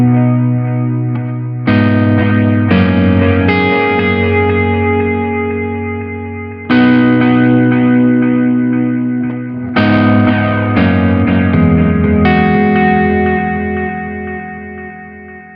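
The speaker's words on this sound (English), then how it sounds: "even with the repeat on full, the Sonic Ambience will not self-oscillate" Guitar chords played through a Sonicake Sonic Ambience delay pedal with the repeats turned all the way up. Loud, sustained strums ring out about every two to three seconds, with echoing tails that blend together without running away into feedback.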